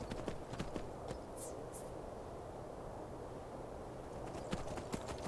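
In the video game Skyrim, horse hooves clip-clop at a walking pace over a soft ambient bed, a few irregular clusters of knocks, fairly faint.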